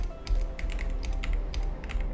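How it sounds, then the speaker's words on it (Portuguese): Keys clatter steadily on a worn, poor-quality computer keyboard, a run of close, sharp clicks and taps over a low background hum with no one speaking. "meu teclado está bem ruimzinho"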